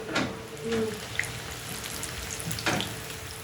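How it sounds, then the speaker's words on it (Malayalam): Steady crackling sizzle of biscuits deep frying in oil, with a couple of sharper splashes and utensil clinks near the start and end. "ഇനിയിപ്പോൾ ഇതാ കുട്ടികൾക്കും വേണ്ടിയിട്ട് ബിസ്ക്കറ്റ് പൊരിക്കുകയാണ് കേട്ടോ"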